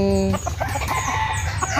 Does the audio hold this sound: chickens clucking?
yes